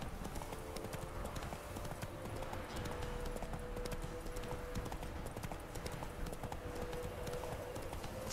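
Hooves of the horse Roach in The Witcher 3: Wild Hunt clop in a steady, continuous trotting rhythm, close and even throughout, with faint game ambience beneath.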